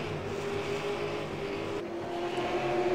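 Stock race cars in a Tundra Super Sim Series sim racing game at Southern National, engines droning steadily as cars jostle for position, a continuous loud roar with no speech.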